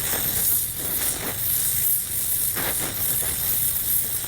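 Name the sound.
oxy-acetylene gas welding torch hissing while heating metal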